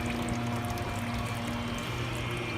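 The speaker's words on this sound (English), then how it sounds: "you turn it towards you, you will hear the filter pump kick on" A deep fryer's filter pump pushes filtered grease back into the fry vat, giving a steady rushing, pouring liquid sound under a constant motor hum.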